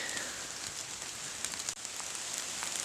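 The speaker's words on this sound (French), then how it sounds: "me voilà toujours encore sous la pluie" Steady rain falls through a forest on an autumn mushroom hunt, a dense even patter of drops on leaves and ground with scattered brighter drips, close around and continuous with no talk.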